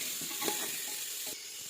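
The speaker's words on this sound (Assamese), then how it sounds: "এয়া এতিয়া মই ফুলকবি আলু গোটেইখিনি দিয়া হৈ গ'ল, অকণমান ভাজি লৈছোঁ" Cauliflower and potatoes frying in a pan for khichdi on lowered gas, a soft, fairly quiet sizzle with a few stirring scrapes, brief and without talk.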